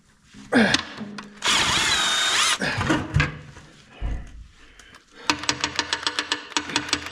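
A power drill removing a part during a brake job on a U302 whirs in short, loud bursts, then a quick series of sharp rhythmic clicks and taps follows close up.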